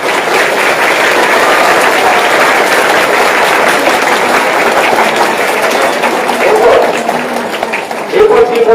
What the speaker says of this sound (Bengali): এই জন্য আমরা করোনা যোদ্ধা হিসাবে তাকে একটা করতালির মধ্য দিয়ে অভিনন্দন জানাবো।